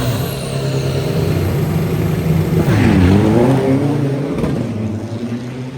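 Four-cylinder turbo diesel trucks drag race at Bangkok Drag Avenue, with loud engines roaring and revving, a rising pass near the middle and a steady mechanical drone throughout.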